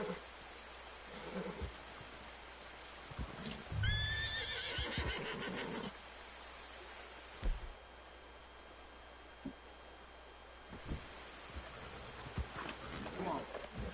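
A horse in the video game Red Dead Redemption 2 gives a clear, loud whinny around the middle, with soft clip-clop hoof steps and a rainy outdoor ambience around it.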